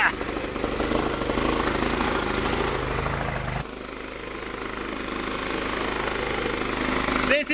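Engine running on wood gas from a DIY gasifier in an off-grid setup, a loud steady rumbling drone that drops slightly in level midway, continuous throughout.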